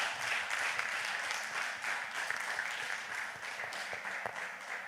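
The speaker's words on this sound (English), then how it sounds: "So let's give them a round of applause." An audience applauds panelists at a disability innovation roundtable, a steady, fairly distant wash of clapping that stays even across the whole stretch and tapers slightly near the end.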